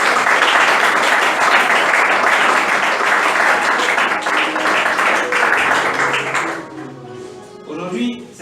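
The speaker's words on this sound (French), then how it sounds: "j'aimerais qu'on acclame Dieu pour sa vie" Loud applause and cheering from a church audience in a French-speaking service, dense and sustained, fading out near the end as a voice begins speaking.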